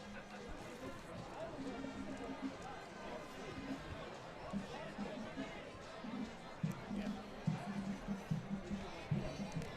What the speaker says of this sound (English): we got a nice crowd here tonight for senior night